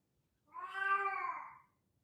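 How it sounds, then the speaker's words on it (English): A cat lets out a single long, angry meow, drawn out and wavering for over a second, close and fairly clear against a quiet room. "My cat is very angry at something."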